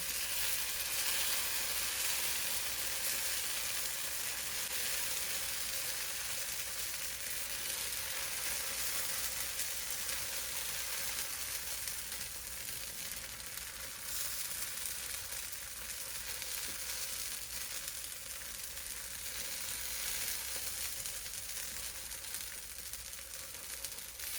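Moong dal chila batter frying in a little ghee on a hot pan, a steady close sizzle and crackle running unbroken throughout with no voices.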